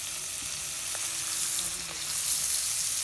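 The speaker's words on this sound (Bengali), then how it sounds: "মাছ ভাজতেছি" Fresh bata fish fries in hot oil with a soft, steady sizzle and faint crackles and pops, without any talking.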